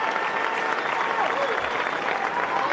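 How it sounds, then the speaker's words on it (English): A rally crowd at a TPUSA event cheers and applauds steadily, a dense roar of clapping and shouting that holds at a constant level throughout with no pauses. "Do you hear that crowd going crazy?"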